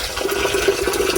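Water gushing steadily from a pipe line, a loud continuous rushing flow with no pauses.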